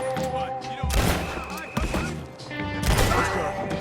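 Enemy guns fire in the Red Dead Redemption 2 video game, with several sharp, loud gunshot bursts spaced across a few seconds over a low ambient bed, and a voice speaking between the shots.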